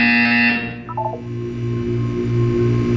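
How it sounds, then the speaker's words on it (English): An electronic buzzer tone sounds loudly in the Portal 2 video game, then cuts off into a short descending blip sequence, leaving a steady low hum underneath. "When you hear the buzzer, look down at the floor."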